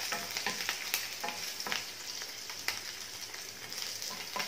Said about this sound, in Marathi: व्यवस्थित परतून घ्यायची 5 मिनिटं छान अशी, थोडी मऊ पडली पाहिजे।